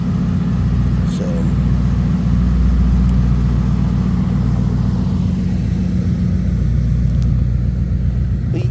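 Car engine idling after a cold start, fitted with a glass pack exhaust: a steady, loud low rumble that holds evenly throughout with no revving, and faint background sounds above it.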